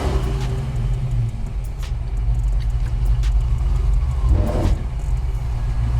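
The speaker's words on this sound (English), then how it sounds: "Let's bring that RPM up." A built 302 V8 in a 1966 Ford Mustang idles with a deep, loud rumble, then swells briefly as the throttle comes up for a launch attempt with two people aboard.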